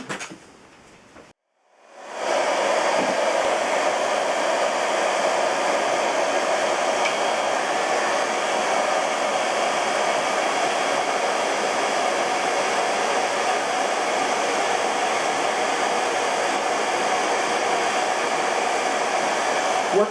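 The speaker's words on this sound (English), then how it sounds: "give him a good couple of minutes with the hair dryer" A hair dryer starts after a brief pause and runs steadily, a loud constant whooshing hum that continues without change.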